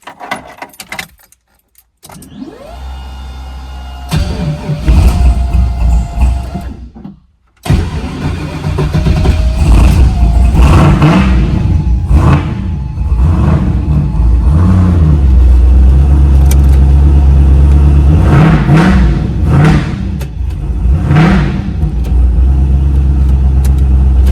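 Keys jangle, then a Camaro with a failed transmission and no forward gears starts up. Its engine revs loud and close in repeated surging bursts, with a brief silence just before it catches.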